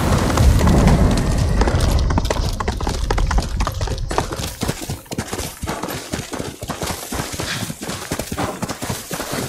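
Steady clip-clop of galloping horse hooves in the video game Ghost of Tsushima over a dense, continuous wash of rain-like noise, loud and close throughout, with no voices.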